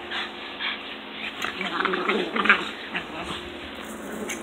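Several dogs play roughly together at close range, panting, yipping and letting out small growls and whimpers in a busy, continuous scuffle.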